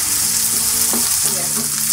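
Onion with garlic ginger paste fries in a pan for samosa chaat, a dense, steady close-up sizzle with light stirring scrapes and no talk.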